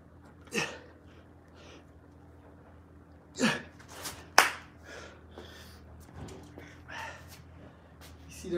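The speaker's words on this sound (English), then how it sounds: "I love finishing my push-ups in a clappy way." Hands clap sharply at the top of clapping push-ups during an intense HIIT workout, a few distinct claps spaced seconds apart over a quiet room with faint breathing between.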